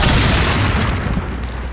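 A grenade blast in the Resident Evil 4 video game, a loud, heavy boom with a rumbling low tail filling the short moment, no speech over it.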